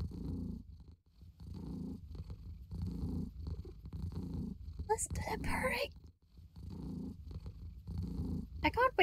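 A sleeping cat purrs in the video game CATO: Buttered Cat, a soft, close, rhythmic rumble of repeated breaths, with a brief burst of other sound partway through.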